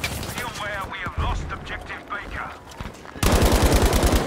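Battlefield V gunfire: someone talks excitedly over a match, then a loud, rapid burst of automatic weapon fire bursts in close at the end, pounding fast and evenly.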